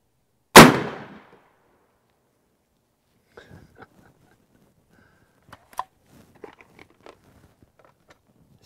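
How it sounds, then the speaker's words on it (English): An AirForce Texan .457 caliber air rifle fires a lead bullet: one sharp, loud report near the start, then quiet with scattered faint clicks and handling noises. "Check out what I get from the 457 caliber air rifle bullets from Hunter Supply."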